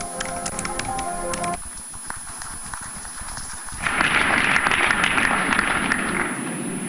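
Round of audience applause at a formal event honouring a former head of state, a steady patter of claps that swells louder midway and carries on under a faint steady tone, no talk.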